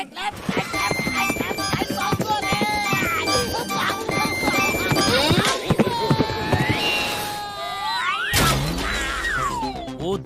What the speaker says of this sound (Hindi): वो दिलावर खान का घोड़ा है रफ्तार